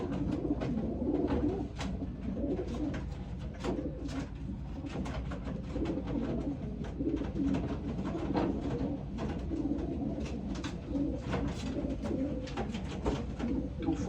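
A loft of racing pigeons cooing continuously, overlapping low burbling calls from many birds with scattered wing flutters and small clicks, steady and fairly close.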